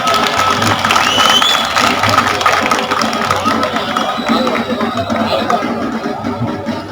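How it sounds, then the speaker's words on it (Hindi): Crowd applause greets a speaker being introduced at an outdoor political rally, loud and sustained across the whole stretch with a babble of voices and some background rumble mixed in. "जोरदार तालियों से स्वागत करें"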